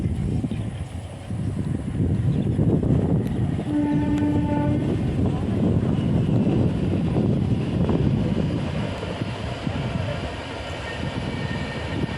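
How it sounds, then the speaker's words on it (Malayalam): A Kottayam–Ernakulam train rumbles past steadily for several seconds, sounding a brief horn early on, with its heavy rolling noise filling the scene. "അതായത് കോട്ടയം എറണാകുളം ട്രെയിൻ അതിൽ വരുന്നുണ്ടിരിക്കുന്നു"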